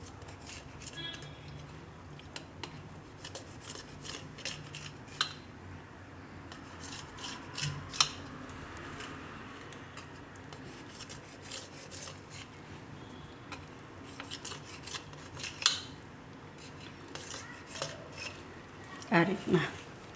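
A knife scores slits into soft farali dhokla, giving faint rasping scrapes and light taps against the dish, irregular and spread across the clip, with someone talking quietly over it.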